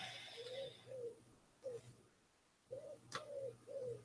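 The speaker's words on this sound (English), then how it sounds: "I think that pigeon heard me." Pigeon cooing in repeated soft phrases, fairly close, with brief pauses between calls over a low steady hum and faint background noise.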